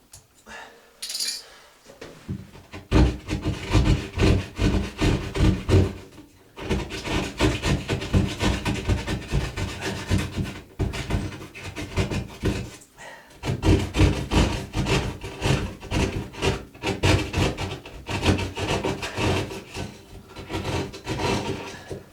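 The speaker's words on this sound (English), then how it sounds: "I do without this sheetrock saw." A hand sheetrock saw cuts with rapid, steady back-and-forth strokes, loud and close, in long bursts broken by brief pauses, with no talking.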